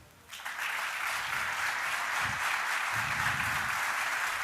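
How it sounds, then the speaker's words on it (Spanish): An audience claps loudly for the doctors after a talk on prevention, applause swelling in quickly after a brief quiet start and holding as a dense, steady roar, with faint low voices murmuring beneath. "Fuerte el aplauso a las doctoras."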